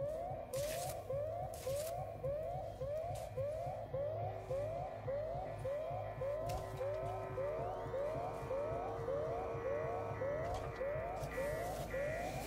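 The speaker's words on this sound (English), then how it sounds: "I wish I could just turn off the alarms." Blaring alarm sirens in the sci-fi survival horror game Alien: Isolation, a loud repeating rising whoop pattern cycling steadily about every half second over a dense mechanical rumble and occasional bursts of noise, with no talking.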